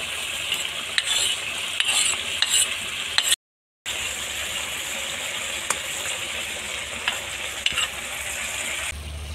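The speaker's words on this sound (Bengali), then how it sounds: "এখন আমি মাছ কয়টা দিয়ে দিব।" Prawns frying in a pan for shrimp curry, a steady sizzle with occasional stirring scrapes and clinks throughout, broken by a brief gap of silence.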